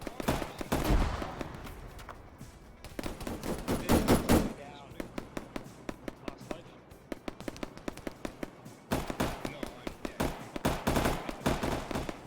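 Gunfire in Arma 3: dense bursts of rapid automatic fire, then a stretch of single, evenly spaced shots, then heavy bursts again. The shots are loud and close, with a faint voice now and then.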